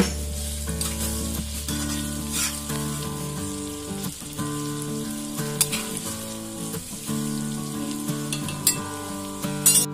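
Ground onions frying in oil left from frying prawns, a loud close sizzle with stirring scrapes and clinks of a spoon against the pan, continuous over a steady hum, with no talk.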